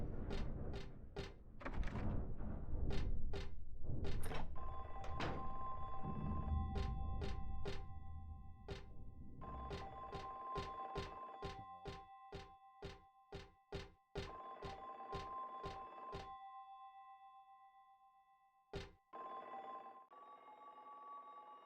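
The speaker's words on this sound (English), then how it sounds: "This locker is ringing." Old-style telephone bell ringing from inside a locker, a series of sharp metallic rings in bursts with brief pauses, loud and close, with a few thuds at the start and no talk.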